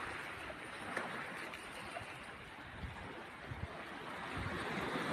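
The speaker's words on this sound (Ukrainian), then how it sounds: "Море шумить так спокійно" Gentle sea waves wash steadily against the shore in a soft, continuous hiss, with no voices.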